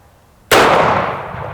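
A single loud shot from a Smith & Wesson Governor revolver cracks out sharply close by, then its report decays over about a second with no other sound.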